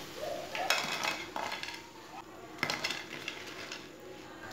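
Fried semolina snacks are lifted from hot oil and set onto a plate, bringing a few metallic clinks and scrapes of utensil against pan over a low, steady frying hiss.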